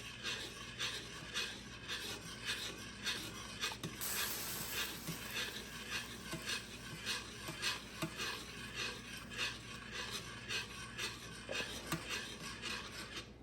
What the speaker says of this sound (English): once I add my half a cup of grits, I just stir it for about 30 seconds